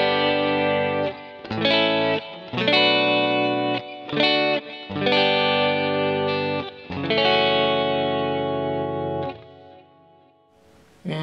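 Electric guitar played through an AmpliTube Satriani rig with Valhalla reverb, giving loud distorted chords and notes in phrases with short gaps, effects-laden and bright, trailing into a reverb tail at the end.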